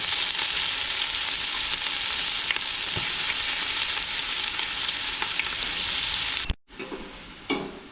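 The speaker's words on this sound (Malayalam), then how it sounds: "ഞാൻ അതിലേക്ക് ഇഞ്ചി വെളുത്തുള്ളിയും കൂടി അരച്ചല്ല ചതച്ചതാണ് ചേർക്കുന്നത്" Crushed ginger and garlic sizzle loudly in a hot pan with mustard seeds, a dense steady fry close by that suddenly drops to a quieter sizzle with a few stirring clinks near the end.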